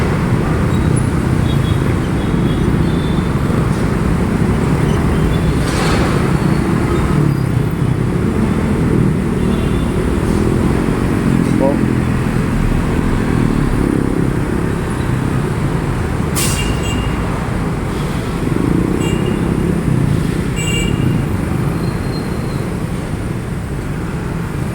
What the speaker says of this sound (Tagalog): Talaga naman itong mga motor na ito.